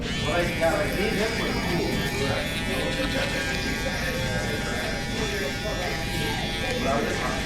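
An electric shaver runs steadily along a client's neck during a barber's burst taper fade, its close, continuous buzz holding for several seconds under someone talking.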